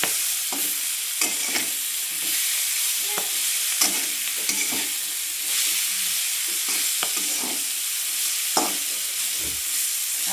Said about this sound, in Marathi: तशी खरपूस तळणी बघितलं ना